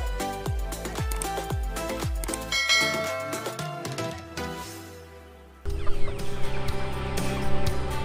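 Chickens on a free-range breeding farm cluck continuously and fairly loudly. The steady clucking is joined by rhythmic metallic tapping, and the sound grows denser and louder in the second half.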